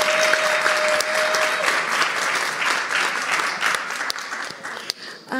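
An audience applauds at a conference session in New York, producing sustained, moderately loud crowd clapping that stays steady and tapers slightly toward the end.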